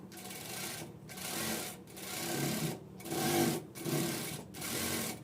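A sewing machine stitches a princess cut blouse in several steady runs of rapid mechanical whirring, each lasting about a second, separated by brief pauses; close and clear, with no talk.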